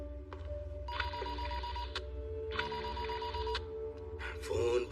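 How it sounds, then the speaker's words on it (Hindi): Telephone ringing in two long, loud electronic bell bursts separated by a pause, over a low background hum and faint room noise. "फोन बज रहा है"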